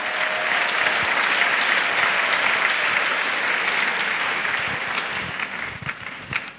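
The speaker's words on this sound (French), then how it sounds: "Let's clap." An audience claps in a burst of dense, continuous applause at a church gathering, loud and steady before thinning out into scattered claps toward the end.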